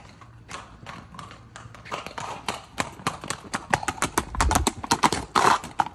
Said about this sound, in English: Got a good little short lope.